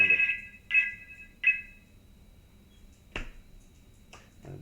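Three short electronic ring tones in a quick even sequence, fairly close, then a couple of faint clicks in otherwise quiet surroundings.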